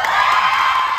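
Women in an audience at a hosted game show cheering and shouting together, a loud sustained burst of high-pitched crowd yelling lasting about a second.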